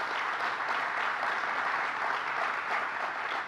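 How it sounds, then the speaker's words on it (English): Sustained applause from an audience at a government announcement on Long Island, honoring a county sheriff, steady and dense throughout with no speech over it. "Let's give the sheriff a big round of applause."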